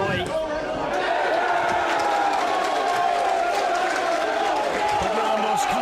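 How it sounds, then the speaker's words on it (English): Rugby match crowd between Old Wesley and Old Belvedere cheering and shouting, a loud, continuous roar of many voices mixed with distinct yells, steady throughout. "You can hear from the crowd to my left."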